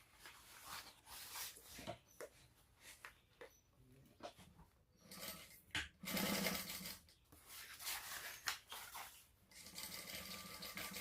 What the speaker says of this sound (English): we will stitch all the way around the perimeter.